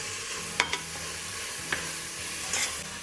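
A spoon stirs chicken curry with turmeric in a pan, soft scraping with a few sharp clinks against the metal over a low background sizzle, close and unhurried.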